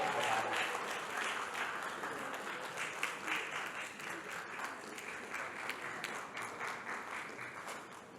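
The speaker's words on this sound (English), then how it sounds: "A round of applause for her." A conference audience applauds, a sustained wash of clapping that starts strong and gradually thins as it fades.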